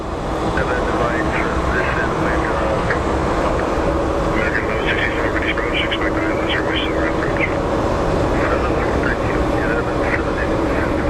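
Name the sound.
airliner passing by at Phoenix Sky Harbor airport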